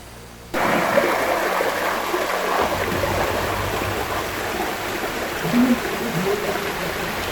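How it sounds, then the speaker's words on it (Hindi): A small forest waterfall near Nainital rushes in a steady, close, broadband roar that starts abruptly and continues without a break, with faint brief sounds over it. "सुनाई दे रहा है आपको? यहाँ पे छोटा सा वाटरफॉल है।"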